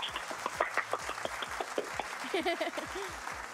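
Studio audience applause during a Kurdish television show, a patter of scattered hand claps under a voice that speaks throughout, the claps steady and moderately close.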